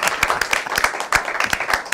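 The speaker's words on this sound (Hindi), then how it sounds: "एक बहुत लंबी आप तालियाँ बजा दें और ये तालियाँ बजती रहें" Applause at an awards ceremony for the film Incredible India, a small audience clapping in a quick, irregular patter with sharp individual claps standing out, moderately loud and fairly close.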